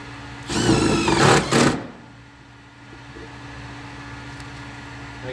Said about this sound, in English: Okay, now you're going to go your self-tappers with star washers right into the metal flange.